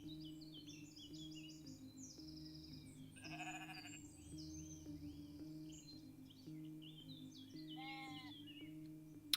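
Sheep bleat in the Equilinox video game, a wavering call at mid-distance over steady background game music, with a second bleat near the end and bird chirps scattered throughout.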